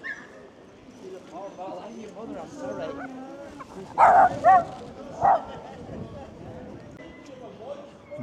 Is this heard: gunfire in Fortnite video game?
no